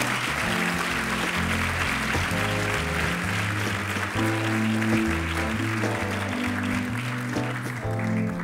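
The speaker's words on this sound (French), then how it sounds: "on peut les applaudir pendant qu'ils prennent la photo" An audience applauds steadily at an awards evening while loud music with a strong bass line plays throughout, the clapping partly blended into the music.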